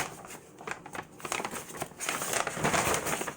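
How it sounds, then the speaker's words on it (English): Semi-dry cut plant pieces are dropped into a large brown paper bag, giving a close, continuous papery crinkle and rustle that swells toward the end, with no talk. "I'm going to put them in this brown paper bag."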